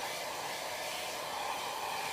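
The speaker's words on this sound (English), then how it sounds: "you take your hair dryer," A hair dryer runs steadily on a low setting, drying latex on a half mask, a constant whirring hum and airy rush that never changes pitch.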